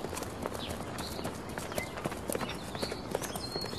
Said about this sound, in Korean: 야생 당나귀 훈란이다